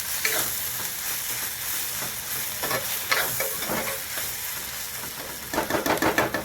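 Steady sizzling and frying with scraping stirs as turmeric, chili and coriander powders are mixed in a pan for dry fish curry, a few sharper clinks of a utensil toward the end.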